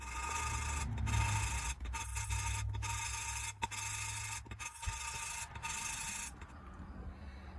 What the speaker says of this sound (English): So I'm just gonna keep grinding here manually, and we're gonna inspect it together again.